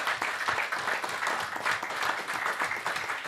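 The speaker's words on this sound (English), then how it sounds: "clap it up" A church congregation claps in a dense, continuous round of applause, moderately loud and without talk.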